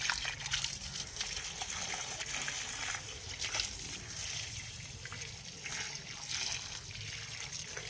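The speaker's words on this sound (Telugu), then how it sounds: "ప్రస్తుతానికైతే నీళ్ళు పట్టేద్దాం." Water runs from a tap into a container in a garden, a continuous soft gushing trickle heard steadily at low level.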